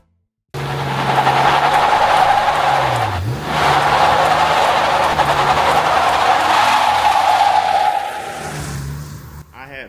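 A 2024 Jeep Wagoneer SUV roars through a loud, sustained burnout, engine revving hard with a steady tire squeal that dips briefly mid-way, then fades near the end, close and dominant.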